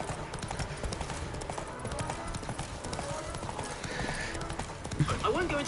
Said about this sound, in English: Did Geralt just make the sound of a horse?